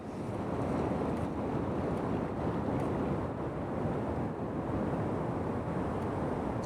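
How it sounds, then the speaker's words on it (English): Waves breaking against rocks on the Anglesey coast, a steady broadband wash of surf that holds at an even loudness throughout, roughened by wind noise on the microphone and with no voices. "So now I'm just going to wait for some waves to hit these rocks."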